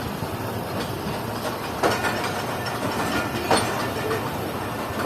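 The 12 Down Hazara Express rolls along the line after departing Khanewal Junction. A steady rumble and rattle of railcars is accompanied by faint clickety-clack and occasional hiss, heard continuously from on board.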